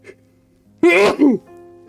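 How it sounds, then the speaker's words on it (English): A single sharp sneeze bursts out close to the mic, a quick two-part explosive exhale over a quiet room hum. "I didn't mean to sneeze on you, stream."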